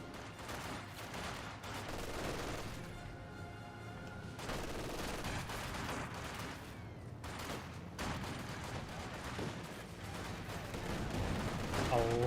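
Rapid rifle and machine-gun volleys crackle in a Company of Heroes 2 battle, with dense bursts of gunfire and chain-reaction blasts running throughout under a commentator's continuous talk.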